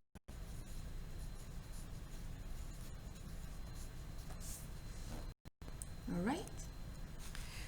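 A marker squeaks and scratches briefly on a classroom board, written by a teacher over steady background hiss, with a short spoken remark nearby.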